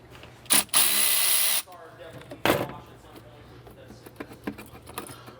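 A 10mm battery terminal nut on a Volvo XC90 being loosened, with a loud burst of ratcheting or spinning tool noise lasting about a second, then a short sharp clank and scattered light metallic clicks and handling sounds.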